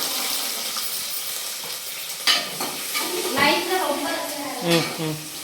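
Green chillies and onions frying in ghee with whole spices for chicken biryani: a steady close sizzle with scraping stirring strokes in the pan and a few louder clatters, while a voice talks over it.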